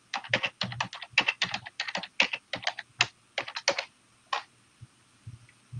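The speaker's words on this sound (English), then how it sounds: "I just typed it in" Typing on a computer keyboard: quick clusters of crisp, close key clicks in irregular bursts, with short pauses between runs and no voices.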